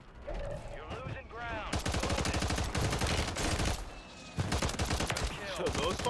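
Rapid pistol gunfire from the COR-45 in the video game Warzone, bursts of fast repeated shots in quick succession, loud and dense, with a short break before firing resumes.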